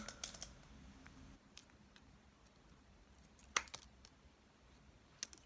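Scissors snip a plastic cup into the shape of a fake fingernail, a few sharp, quiet cuts and clicks spaced apart, close to the microphone in a quiet room.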